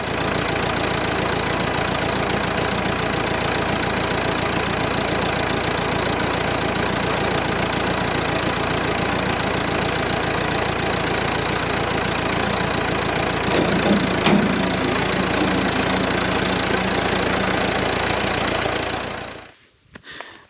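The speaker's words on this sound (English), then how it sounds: "I'm just going to move the front end loader a little bit closer to the star picket" A front end loader's diesel engine runs steadily at close range, a loud continuous idle with a brief rise near the end before it cuts off abruptly.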